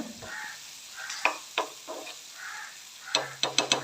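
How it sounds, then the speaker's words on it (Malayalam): Marinated prawns fry in oil with a soft sizzle, broken by several sharp spatula or utensil clicks toward the end, close and fairly quiet. "മാരിനേറ്റ് ചെയ്ത് വെച്ച ചെമ്മീനായിരുന്നു ഇത് ഓയിലിൽ ഒന്ന് ഫ്രൈ ചെയ്തെടുക്കുകയാണ്"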